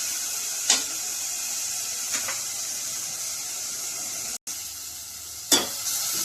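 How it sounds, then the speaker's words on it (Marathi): Finely chopped onion frying in a pan gives a steady, bright sizzle throughout, broken by a few sharp clicks of a stirring spoon and one brief dropout, with no talk. "कांदा आपला फ्राय होतोय"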